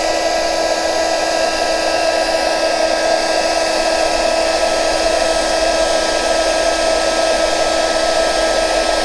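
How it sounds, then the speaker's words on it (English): A loud heat gun runs continuously during journal making, giving a steady, unchanging blowing whir with a constant high-pitched hum, with no talking over it. "I'm going to use this very loud heat gun again,"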